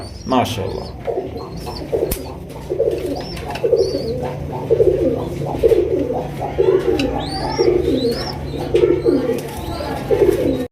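Low, rolling pigeon coos repeat steadily through a busy ambient backdrop at a pigeon seller's, with occasional chirps from other birds and faint voices nearby.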